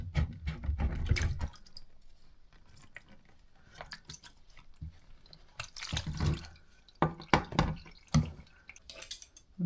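Water from a faulty shower drips and splashes into a plumber's bucket, giving irregular close drips and knocks with a few louder splashy bursts, and no voices.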